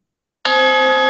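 A single bright bell tone from a meditation app strikes after a moment of silence and rings on steadily, clear and sustained with rich overtones.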